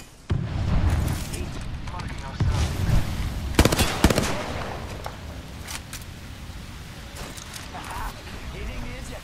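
Grenade blast in the Apex Legends shooter, a sharp loud burst standing out among game gunfire and rumble, with a player talking over the action.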